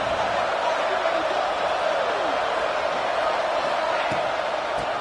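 Home crowd cheering at a football video game, a steady, dense roar of many voices that fills the whole stretch without letup.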